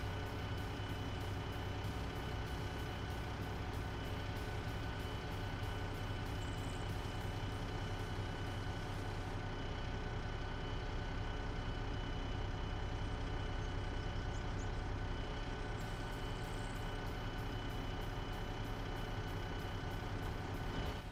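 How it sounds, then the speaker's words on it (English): A vehicle engine starting and running in the Arma 3 military game, a steady low rumbling drone that holds at an even level throughout, with faint high whine on top. "All right, engine's coming on."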